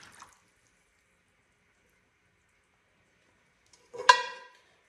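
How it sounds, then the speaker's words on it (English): Fiber reactive dye solution poured onto basketry reed makes a single short, close splash of liquid after a long silence, with a faint trickle trailing off. "I'm going to pour it in on my reed"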